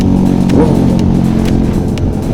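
A motorcycle engine revs loudly nearby, a throaty rumble with rising and falling pitch, mixed with other traffic noise.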